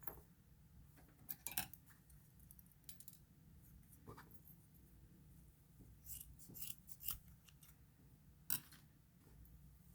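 Scissors snipping through a 4th of July tassel, a series of quiet, crisp metallic cuts spaced irregularly, heard close and alone with no talking.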